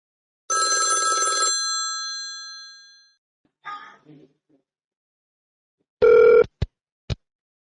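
Telephone ringing on an outgoing call: a single sustained tone that fades out, then a short burst of a bright tone followed by two sharp clicks, with silence between.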